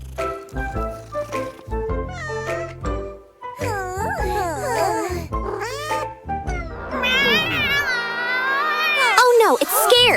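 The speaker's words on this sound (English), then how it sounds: "It's a cute cat." A cartoon cat gives a few high, sliding meows over bouncy background music in a children's farm-animal cartoon, with a brief pause partway through and a longer drawn-out mew near the end.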